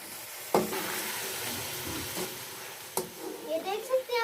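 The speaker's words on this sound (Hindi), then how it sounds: "अभी हम लोग इसके अंदर चिकन डालेंगे। बिस्मिल्लाहिर्रहमानिर्रहीम। चिकन को भी पकाएंगे ताकि हमारा चिकन लाइट गोल्डन हो जाए।" Chicken pieces sizzling in hot oil with golden fried onions for biryani, a steady close frying hiss with stirring clatter and a sharp sputter burst near the start.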